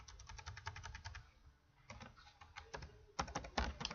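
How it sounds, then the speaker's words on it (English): Bursts of quick typing on a computer keyboard while coding, close and clear, with short pauses between flurries of crisp key clicks in a quiet room. "Trying to talk and type at the same time"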